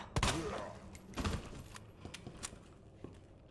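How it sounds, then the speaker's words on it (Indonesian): Several sharp gunshots in the video game Resident Evil 2 crack out in a quick burst, followed by scattered softer pops and clatter, with a faint electronic whine in the background. "Kalau panik jadi miss tembakan gue"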